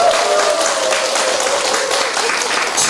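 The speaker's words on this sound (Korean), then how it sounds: "진짜 세게 한번 박수 한번 주세요" An elderly congregation at a church senior college applauds loudly and continuously, a dense wash of many hands clapping throughout.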